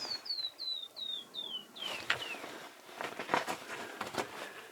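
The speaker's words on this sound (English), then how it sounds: "I keep hearing that bird," In an ice cave, a bird repeats a series of about seven clear descending whistled notes in quick succession, followed by soft rustling and light footsteps nearby.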